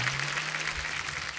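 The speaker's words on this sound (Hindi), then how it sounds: "ओ जोरदार तालियां विकी कौशल जी के लिए और सुजीत सरकार जी के लिए" Studio audience applause on a comedy talk show for actor Vicky Kaushal and director Sujit Sircar, a fairly soft, even patter of clapping with a low steady hum underneath.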